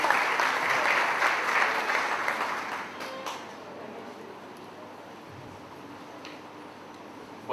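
Audience applause welcoming a speaker at an international higher-education forum in a university, a full burst of clapping that fades after about three seconds into quiet room noise.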